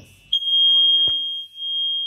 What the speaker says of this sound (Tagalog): Okay, so may nag-alarm.